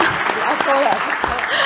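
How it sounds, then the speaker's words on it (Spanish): An audience at a panel discussion breaks into applause, a busy patter of claps with a voice talking over it throughout. "Qué buen timing ese aplauso."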